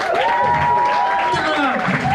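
A comedy club audience at a Berlin stand-up show applauds steadily for about two seconds, dense and close, while a raised voice calls out over the clapping.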